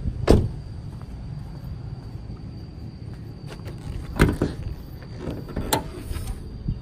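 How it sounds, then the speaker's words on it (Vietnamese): Hood release on a 2009 Hyundai Santa Fe, a few sharp mechanical clunks and clicks against a steady low background hum, close and isolated. "Cái mở cúp capo đây"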